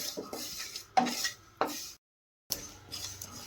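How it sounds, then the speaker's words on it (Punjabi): Whole spices dry roasting in a pan over a gas flame, heard as stirring scrapes and light metallic pan and utensil clatter in short bursts, with a brief silent gap partway through. "ਇਹਨਾਂ ਨੂੰ ਡਰਾਈ ਰੋਸਟ ਕਰ ਲਾਂਗੇ ਥੋੜਾ ਜਿਹਾ 2-3 ਮਿੰਟ ਹੀ ਸੇਕ ਲਵਾਵਾਂਗੇ ਇਹਨਾਂ ਨੂੰ"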